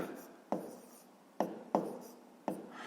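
Chalk or a pen taps and scratches on a board while a math solution is written out, with four distinct sharp strokes at uneven intervals, each trailing into a faint scraping rub in a quiet room.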